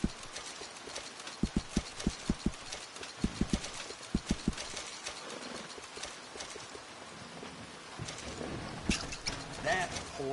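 Horse hooves clip-clop on the ground in Red Dead Redemption 2, a short run of close, distinct hoofbeats in small clusters, then fainter steps under game ambience and brief talk.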